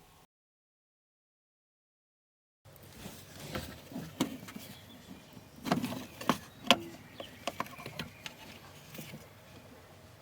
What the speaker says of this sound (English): squeeze these black clips inwards, then pull